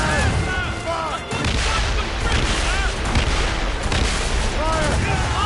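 Cannons fire in Assassin's Creed Rogue during a naval battle, heavy booms rolling one after another through the whole stretch alongside crackling gunfire, while crew voices shout orders over the din.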